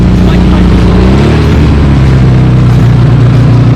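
A vehicle engine revs hard and steadily while the clutch burns and slips, a loud, continuous low drone that holds at high revs for a few seconds with no talk over it.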